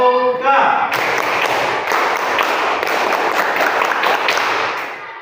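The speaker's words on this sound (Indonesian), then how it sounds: "Tepuk pramuka." A third-grade classroom does the rhythmic Pramuka scout clap together, with many hands slapping in a patterned sequence of loud, close claps after a short spoken lead-in.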